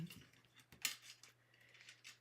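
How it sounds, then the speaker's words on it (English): Scissor blades snip a few times in quick, quiet bursts, with small sharp metallic clicks and rustling close by in an otherwise quiet space. "I'm just using a pair of scissors."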